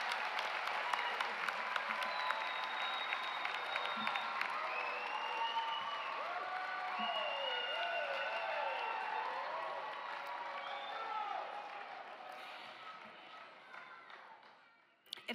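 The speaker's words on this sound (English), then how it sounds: "Let's have a round of applause for everyone." Audience applause fills a graduation commencement ceremony, a steady wash of many hands clapping with some cheering voices over it, holding for most of the stretch and then tapering off near the end.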